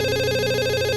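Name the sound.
telephone ringing at police station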